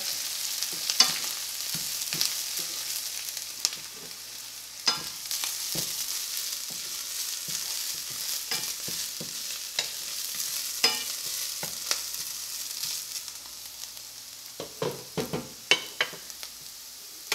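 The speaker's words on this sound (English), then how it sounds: "Let's add the coconut. Just mix that together." Grated coconut being stirred into French-cut green beans frying in a pan for Kerala-style thoran, with a steady sizzle under repeated scraping strokes of the spoon close by.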